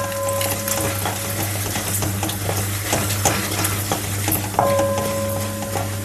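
Cashews and broken Byadagi chillies with urad dal fry on a low flame for uland ogare, a steady close sizzle with scraping stirs and light pan clatter over a constant hum, no voices.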